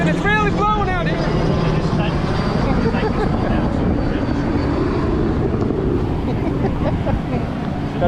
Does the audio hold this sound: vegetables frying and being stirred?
no